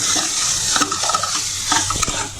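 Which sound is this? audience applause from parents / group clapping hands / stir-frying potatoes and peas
stir-frying potatoes and peas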